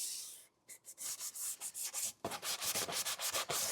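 Wood is sanded by hand along small edges and into tight nooks. Quiet, close rasping strokes follow one another in a quick back-and-forth rhythm, with a short pause early on.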